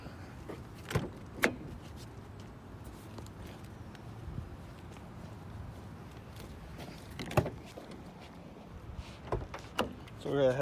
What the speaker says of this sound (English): Open these doors up, get some lighting in there.